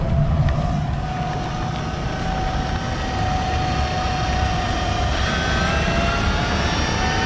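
Rad Power Bikes RadBurro electric cargo bike with a hub motor accelerating, a steady continuous motor drone with broadband rumble and a faint whine that rises slightly, close and fairly loud throughout, with no talking.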